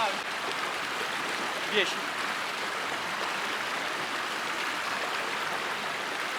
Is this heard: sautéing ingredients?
no